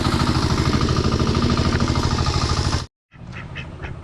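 Ducks in a pen quack loudly and continuously in a dense, rapid chorus, then after a brief cut a quieter stretch of scattered quacks follows.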